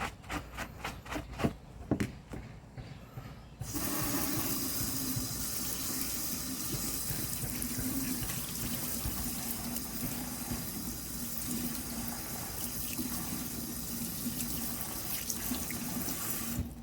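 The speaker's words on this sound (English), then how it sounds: "we're gonna clean up some of the dirt and grease that's on the tools with dishwashing liquid" Tap water runs steadily into a sink while rusty garden tools are scrubbed with dishwashing liquid, a few brief knocks and clinks first, then a loud continuous gush that lasts to the end.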